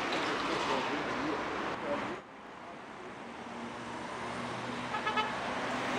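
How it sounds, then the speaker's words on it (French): Dense road traffic at the Porte de Pantin roundabout in Paris, beneath the elevated ring road: a loud, steady wash of passing cars and trucks that drops suddenly partway through, then continues at a lower level with a brief horn toot near the end. "la circulation automobile s'étage sur 3 niveaux"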